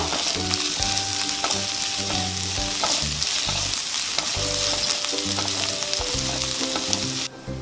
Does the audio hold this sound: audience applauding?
no